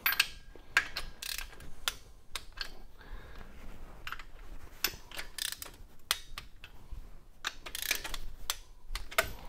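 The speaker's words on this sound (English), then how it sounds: "the torquing sequence on this, I'm going to do it first of all at 25 foot-pounds." A torque wrench ratchets bolts on a 1929 Ford Model A, close, sharp clicking bursts in irregular groups with short pauses between strokes.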